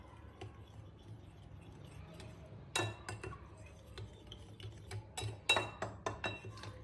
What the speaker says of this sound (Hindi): तो अब एक फोर्क की हेल्प से हम इसको मिक्स कर लेंगे।